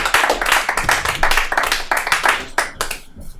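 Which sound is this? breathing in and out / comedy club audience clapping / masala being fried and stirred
comedy club audience clapping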